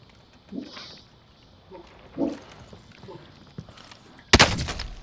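Video game gunfire, scattered faint shots early on, then one sharp loud burst near the end followed by a ringing tail.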